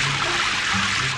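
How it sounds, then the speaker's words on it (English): Cartoon car wash rinsing water over a muddy truck, a steady broadband spray with faint tonal hums underneath, continuous and fairly loud for about a second. "Time to rinse with water."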